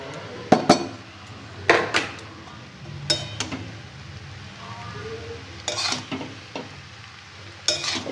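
Chicken chow mein stir-fried in a pan with fried chicken and egg added, heard as scattered metallic clinks and scrapes of a utensil against the pan over a faint low sizzle, with no talking.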